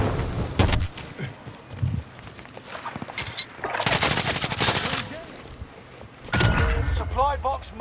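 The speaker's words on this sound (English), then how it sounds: "Shooting people, they're shooting people" Gunfire in a battle royale video game: bursts of rapid automatic shots and broad noisy blasts, some loud and close, others fainter, broken by brief pauses, with a voice talking over the action.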